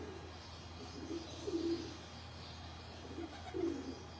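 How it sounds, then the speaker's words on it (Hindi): Pigeons on a Lahore rooftop give soft, low coos in two short bursts, distant and faint over steady background hum. "कम मिलते हैं कबूतर के बच्चे, कबूतर तो मिल जाते हैं।"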